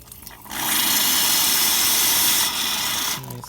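An espresso machine dispenses hot water in a steady, loud hiss and rush lasting a few seconds, starting abruptly and easing off near the end, close by.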